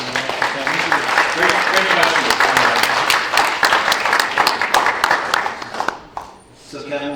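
Audience at a church event at Princeton University gives a guest a round of applause, sustained dense clapping filling the room before it fades, with a brief spoken word near the end.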